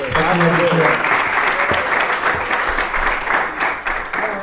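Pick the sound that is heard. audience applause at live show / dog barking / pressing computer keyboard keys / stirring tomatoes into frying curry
audience applause at live show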